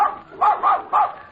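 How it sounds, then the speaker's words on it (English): A dog on an old radio comedy show gives a quick run of three or four sharp, close barks in an even rhythm, with no talking over them. "must your dog bark when I'm talking?"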